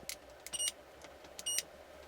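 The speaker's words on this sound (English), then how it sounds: "we're going to set it on continuity. In other words, know if you can hear that." A bench multimeter set to continuity gives two short high-pitched beeps about a second apart, quiet and close, with faint probe clicks and a low hum around them during a Hallicrafters S-210 radio restoration.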